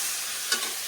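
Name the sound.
stirring spice paste frying in a pan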